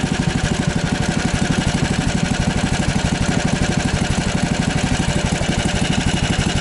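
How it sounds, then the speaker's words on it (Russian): A Lifan 20 engine, started up on the ice during a fishing trip, runs close and loud at a steady, even idle with a rapid pulsing beat and no voices over it. "Хороший звук лифана, 20-ки двигателя."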